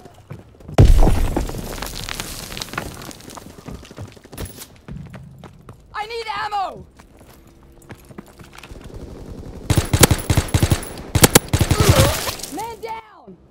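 Gunfire in Call of Duty: WWII multiplayer, scattered loud shots and bursts with crashing impacts, a quieter stretch in the middle with whistling effects, then a heavy volley of rapid shots near the end.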